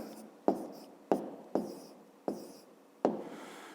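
Pen or pencil writing on paper during a fifth-grade maths exercise: five separate stroke bursts, each a sharp onset fading into scratchy scribbling, close and fairly quiet with no talking.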